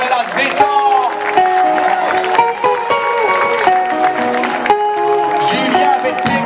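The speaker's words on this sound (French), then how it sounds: "Des applaudissements encore bien nourris pour les musiciens." Applause for musicians at a Calebasse Club cultural evening, with clapping and some cheering mixed under loud tonal sound, likely music or a voice over a PA, running throughout at close, strong level.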